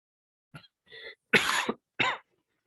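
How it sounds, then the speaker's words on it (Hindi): Several harsh coughs from a man who is unwell, in irregular bursts separated by short pauses, close and fairly loud, with no talk over them. "मेरी तबीयत सही नहीं है तो बार बार मैं वो खांस रहा हूँ"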